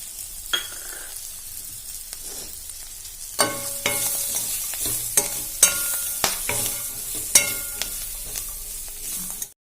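Turmeric frying in oil in a pan for ivy gourd peanut curry, stirred with a spatula: a low sizzle broken by repeated bright metallic scrapes and clinks against the pan, no talking.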